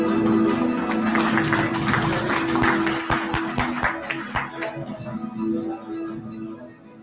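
Audience applause after a leadership award presentation at a summit, a dense wash of many hands clapping that starts loud and thins out toward the end, with a few sharper isolated claps standing out.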